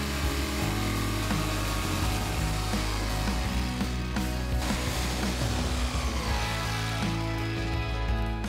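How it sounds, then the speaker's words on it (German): A jigsaw cutting a hole through a boat deck while fitting a stove aboard, a loud, steady mechanical buzz that runs unbroken close to the microphone with the blade's rasp shifting slightly as it works. "kann ich das Loch nicht vollständig mit der Stichsäge schneiden"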